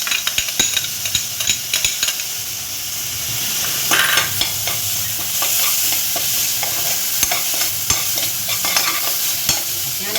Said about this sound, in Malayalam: അരച്ച് വെച്ചിരിക്കുന്ന ഇഞ്ചി പൂ ഇഞ്ചി വെളുത്തുള്ളി അരച്ച് വെച്ചിട്ടുണ്ട് അതിന് നമുക്ക് ഇതിലോട്ട് ഇടാം